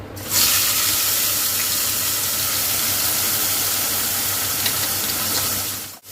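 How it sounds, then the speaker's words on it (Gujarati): Chole gravy poured into a hot spiced oil tempering with asafoetida, giving a loud, steady sizzle and bubbling hiss that lasts about six seconds before cutting off abruptly, no voices. "તો ગ્રેવી નાખી દઈએ."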